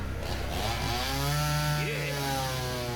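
A chainsaw wielded by Bebop in the Teenage Mutant Ninja Turtles: Mutants in Manhattan trailer snarls at close range, its engine revving up and down over a dense mix of other game sounds.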